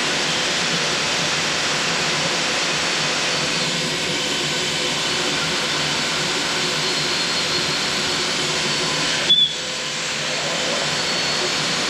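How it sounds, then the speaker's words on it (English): A vacuum cleaner pushed into the exhaust port of a 302 small-block Ford engine runs with a steady, loud whooshing drone that continues almost unchanged, broken only by a brief clunk near the end. "I'm going to be turning on a vacuum cleaner."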